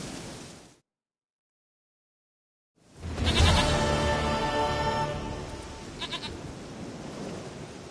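A goat in The Witcher 3 lets out a loud, drawn-out bleat after a brief silence, followed by a shorter bleat, all over a steady rain-like hiss.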